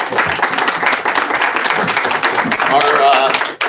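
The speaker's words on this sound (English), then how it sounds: "Let's give everybody a round of applause." An audience at an evening tech meetup about IPFS applauds, sustained clapping mixed with lively chatter and voices throughout.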